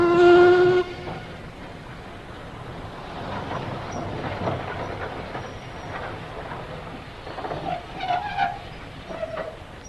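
A steam-era train whistle blows loudly at the start, then a carriage rolls on with a steady clatter and hiss, closing with screeching brakes as it slows at a station in an old-time radio mystery drama.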